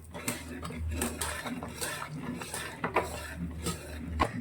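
Rice papad batter with curry leaves and ground garlic-chili paste stirred in a pot on a gas stove, a steady run of close spoon scrapes and clinks with faint background noise.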